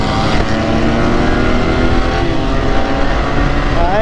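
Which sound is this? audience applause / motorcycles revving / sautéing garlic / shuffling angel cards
motorcycles revving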